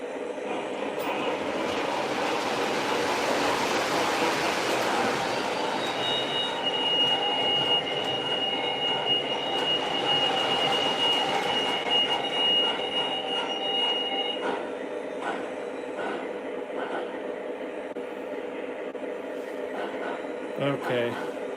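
A Lionel MTH model train, a Big Boy, runs along the track with a steady rolling rumble and faint wheel squeal throughout, while a person talks over it.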